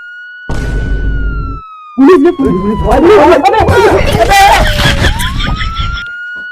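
A siren wails in a long gliding tone, with a short burst of noise before it and excited voices shouting over it.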